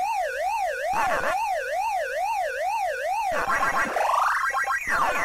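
Pac-Man ghost-eating sounds on the Neo Geo Pocket Color: a steady warbling siren-like tone, then a burst of rapid rising electronic sweeps, loud and continuous.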